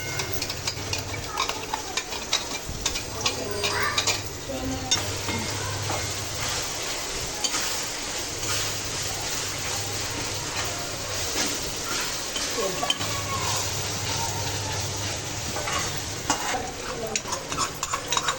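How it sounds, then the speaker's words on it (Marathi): Ginger, garlic and coriander paste sizzles and fries in hot oil as a spoon stirs it in regular strokes, making a steady crackling hiss with repeated scraping. Nearby and moderately loud, with no talking. "आपण आता अद्रक, लसूण आणि कोथिंबीरची केलेली पेस्ट यामध्ये टाकणार आहोत."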